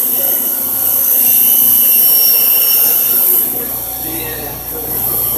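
A bench grinder grinds a piece of metal with its guards removed, giving a loud, steady, high-pitched whine and rasp that is close and continuous, easing slightly toward the end, with a voice talking over it.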